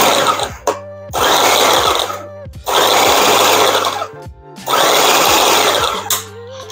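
A food processor pulses Kerrygold butter into flour for a farmhouse chicken pot pie crust: three loud whirring bursts of about a second and a half each, separated by short pauses, with chopping clatter from the blades.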